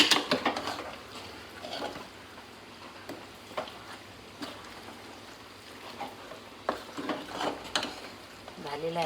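Biryani masala with tomato puree being stirred in a pot for Hyderabadi chicken dum biryani, soft sizzling under repeated spoon scrapes and taps at an uneven rhythm.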